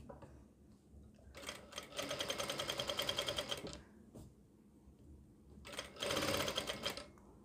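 A sewing machine stitching a balloon top runs in two rapid bursts of steady mechanical whirring, with quiet handling of fabric between them and no speech.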